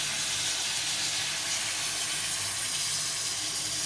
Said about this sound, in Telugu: ఇప్పుడు చింతపండు పులుసు, నానబెట్టుకున్న చింతపండు పులుసు వేసుకోవాలి.